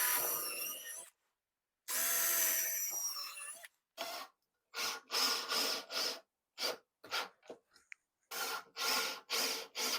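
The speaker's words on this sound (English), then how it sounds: "Now I'm just going to drill some pilot holes into both of these" A power drill bores pilot holes into wood in a series of short bursts, loud and close, with longer whines at first and then quick repeated pulses.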